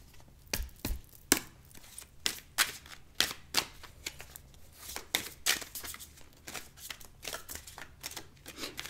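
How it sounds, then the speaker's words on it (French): Stiff tarot cards being shuffled by hand, a close series of crisp riffling bursts and slaps in an uneven rhythm that repeats for several seconds, with no voices. "les cartes sont quand même assez dures, donc allez, c'est pas possible de mélanger comme ça"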